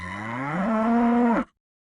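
A single cow gives one long, loud moo that rises in pitch, holds for over a second, then cuts off abruptly into silence.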